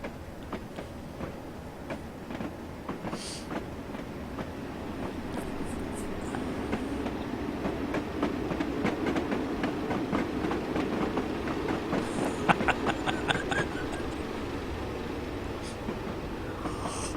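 A Class 101 diesel multiple unit pulls away in Train Simulator 2016 at Doncaster, a steady low rumble of engine and rolling wheels with clicking rail joints, continuous and moderately loud throughout.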